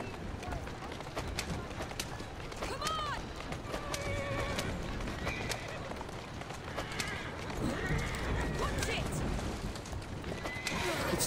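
In the video game Assassin's Creed Syndicate, horses let out repeated whinnies and neighs amid constant clattering hooves and busy ambient noise, the calls standing out at moderate loudness.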